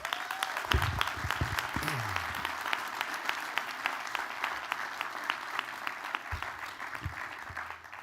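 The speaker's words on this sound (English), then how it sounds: "Please give an amazing round of applause for these amazing students." An audience at an academic awards ceremony applauds students, a steady wash of clapping from a crowd that stays even for several seconds and slowly thins toward the end.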